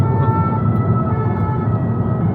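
A loud ambulance siren wails steadily over heavy low road rumble, heard from inside a moving Peugeot 308 GTi.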